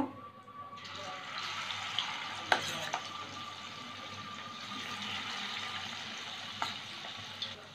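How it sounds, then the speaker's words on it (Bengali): Soya chunks fry in hot white cooking oil, giving a steady, close sizzling hiss that runs nearly throughout, broken by a few sharp pops and clicks. "তেলটা গরম হয়ে গেছে। সয়াবিনগুলো ভেজে নেব।"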